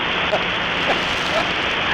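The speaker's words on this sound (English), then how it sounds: "it's raining too, which makes no sense to me whatsoever" Rain falls in a steady, even hiss on a surface, constant and fairly loud for the whole moment, with no clear voices over it.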